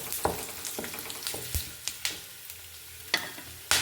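Fennel, cumin, cardamom, cinnamon, clove and nutmeg fry in hot oil, a soft sizzle broken by sharp scrapes and clinks of a spoon stirring the pan at irregular intervals.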